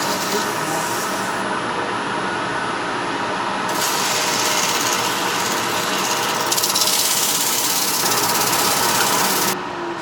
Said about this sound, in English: All right, it's time to sand.